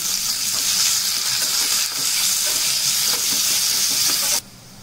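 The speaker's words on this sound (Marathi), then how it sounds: "आणि थोडा कांदा आपण ठेवला होता तो आता कांदा गोल्डन ब्राऊन करून घ्यायचा" Onions frying in oil until golden brown give a steady, loud sizzle with a constant bright hiss and small scattered crackles, close by and with no talking, until the sound drops away sharply near the end.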